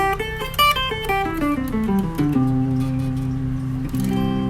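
An electric guitar plays a descending major pentatonic run of single notes, then holds a sustained low note before a final change.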